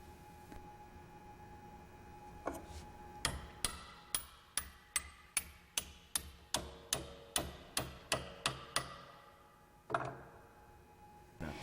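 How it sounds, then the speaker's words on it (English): A hammer taps a pin into a brake shoe roller: about fifteen sharp, evenly spaced metallic strikes close by, with a couple of isolated knocks before and one after, in a quiet workshop. "Install the roller and tap the pin in place."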